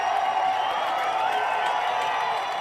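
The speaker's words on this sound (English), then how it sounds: "crowd on their feet" A football stadium crowd roars steadily on its feet during a tense fourth-down play late in the game, a loud, sustained wash of cheering and whooping that is even and unbroken throughout.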